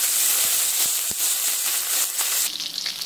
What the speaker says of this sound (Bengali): গরম তেলের মধ্যে বেটে রাখা আদা রসুন পেঁয়াজ কুচিগুলো দিয়ে